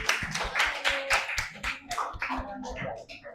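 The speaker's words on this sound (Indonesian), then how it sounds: "Beri tepuk tangan untuk kelompok 3." Applause in an Indonesian junior high school classroom for a student group: a burst of sharp, scattered hand claps, fairly close, with voices talking over and between them.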